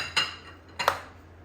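A spoon clinks twice against a bowl while potato ball ingredients are stirred together with mayonnaise; two short, bright taps about half a second apart, close and fairly quiet.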